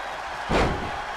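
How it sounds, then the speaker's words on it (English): A wrestler is body-slammed onto the mat in the WWE 2K20 wrestling video game, a single heavy thud near the midpoint that rises out of steady arena crowd noise. "Now he's slamming Bryan headfirst into the mat."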